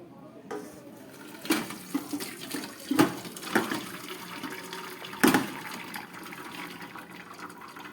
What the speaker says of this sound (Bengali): একটা ফুটো থালার মধ্যে কচুর শাকগুলো জলটা ছেঁকে নিলাম